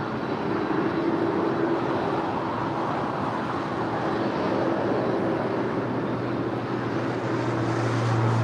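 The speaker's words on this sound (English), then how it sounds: "This is an old 747 passenger version." An old Boeing 747 passenger jet at LAX, heard as a steady, loud broadband jet roar with a low engine hum rising slightly toward the end.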